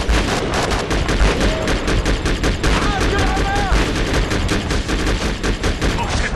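Dense, rapid gunfire from a battle in the military shooter Conflict Desert Storm 2, with loud overlapping automatic bursts throughout and a few ricochet-like whines midway.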